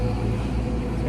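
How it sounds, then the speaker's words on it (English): Dense motorway traffic in Vietnam, cars and motorbikes streaming past, heard as a constant close, loud low rumble of engines and tyres with no distinct individual passes. "There's so many cars and bikes."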